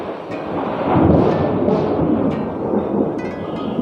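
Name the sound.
thunder during heavy rain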